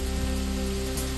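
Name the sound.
heavy rain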